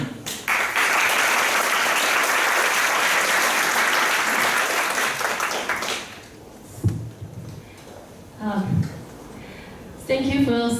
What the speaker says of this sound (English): a round of applause for Jasmine